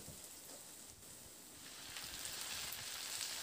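Chopped washed greens drop into browned onions frying in hot oil, giving a steady, fairly close sizzle that swells and grows louder toward the end.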